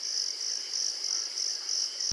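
Steady cricket chirping, a continuous high pulsing trill repeating in even rhythm, alone and fairly close, with no other sounds.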